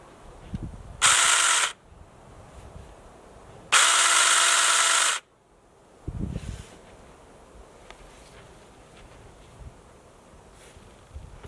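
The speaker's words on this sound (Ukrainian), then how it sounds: "Як бачите, тонкі гілки зрізаю без проблем." Makita DUC155HN cordless pruning shears cut thin garden branches in two short, loud electric motor whirs, the second longer than the first, with soft clicks and rustling of branches between cuts.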